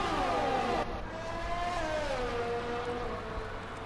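F1 2020 video game race cars in a wheel-to-wheel battle between a Ferrari and a Haas at the Italian Grand Prix, engines whining steadily with pitch sliding downward as they pass, a continuous close roar without talk.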